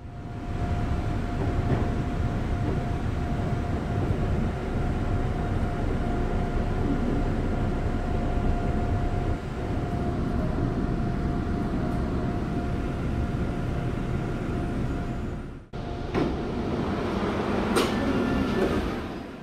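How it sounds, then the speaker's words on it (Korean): Shuttle electric train on the line from Munsan toward Imjingang station, heard from inside the nearly empty car: a steady, loud rumble with a faint whine, then a brief break and shifting rattles near the end. "전용 전철은 계속 북쪽으로 향해 달립니다."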